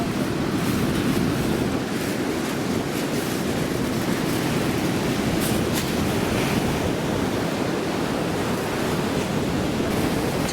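Surf rolling onto Ichinomiya beach in Japan during typhoon season: a steady, loud wash of breaking waves mixed with wind buffeting the microphone, continuous for the whole stretch with no voices.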